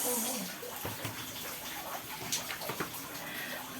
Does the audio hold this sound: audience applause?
no